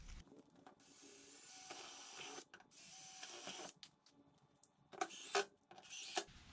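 A power driver runs screws into a board during a fiberglass repair, giving long whirring bursts broken by brief stops, then shorter choppy spurts near the end, close and fairly loud with no speech.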